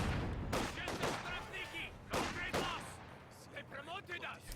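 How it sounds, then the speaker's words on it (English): A rifle grenade hit in Company of Heroes 2 battle gameplay, with loud sharp explosive bursts and crackling gunfire-like blasts arriving in clusters, a couple of heavier impacts standing out. "Took a rifle grenade there."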